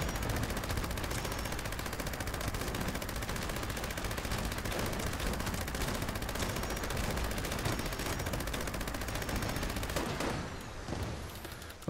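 Bloodied Gauss minigun firing continuously in Fallout 76, a dense unbroken roar of rapid shots that carries loud for about ten seconds before easing off at the end.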